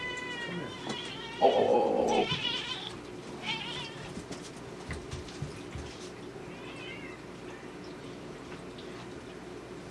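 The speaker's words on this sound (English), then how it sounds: "This is my cat. He's very talkative." A talkative house cat gives a loud, drawn-out meow close by, followed by a few softer meows and faint background noise, with a brief spoken exclamation.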